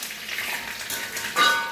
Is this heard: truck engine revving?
no